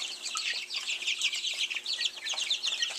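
Young chicks about three weeks old, including speckled Sussex and dark Cornish breeds, cheeping and clucking continuously in a busy, high-pitched chorus close by.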